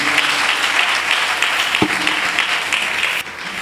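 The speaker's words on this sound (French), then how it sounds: "Acclamation à Jésus-Christ." At a church convention gathering, the congregation breaks into loud, continuous applause that holds steady throughout, with a single thump partway through and no speech over it.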